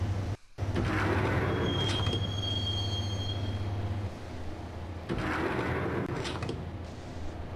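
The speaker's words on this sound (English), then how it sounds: "the train doors had already shut behind me, and I was in for the ride" A train ride in the video game Max Payne, with a loud rumble of rolling carriages and a thin wheel squeal early on, a brief dropout, then the roar settling lower before swelling again.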